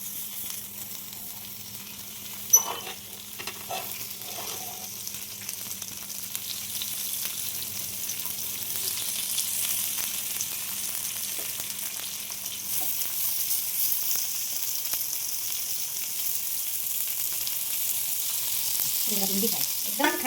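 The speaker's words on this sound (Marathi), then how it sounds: "तर ही बघा अशी करतात भेंडी फ्राय" Okra (bhindi) fries in a pan with a continuous, even sizzle that stays fairly loud and steady throughout. A few stirring sounds come early on, and a brief faint voice is heard near the end.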